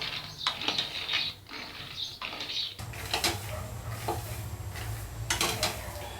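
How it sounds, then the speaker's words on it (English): Peanuts dry roast in a pan with no oil, stirred continuously so the nuts rattle and scrape against the metal in rhythmic, ratchety bursts. The sound is close and fairly loud, with no speech. "Keep stirring them because the peanuts at the bottom will get roasted first."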